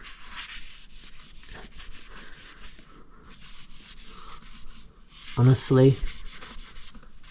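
A Rays TE37 wheel is rubbed down during restoration, making steady, close, scratchy strokes that run throughout. A voice speaks briefly near the end.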